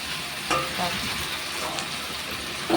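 Chili fish with cornflour slurry being stirred in a sizzling pan, a steady frying hiss with soft scraping strokes of a spoon running throughout, close and moderately loud.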